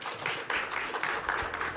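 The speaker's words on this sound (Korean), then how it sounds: "오늘 패널로 참여해서 그 소중한 의견을 적극적으로 개진해 주신 세 분에게 박수" An audience applauds three panelists at the close of a 2021 smart mobility international conference panel on Green New Deal policy and sustainable tourism. The clapping is a steady, moderately quiet patter that continues throughout with no talking.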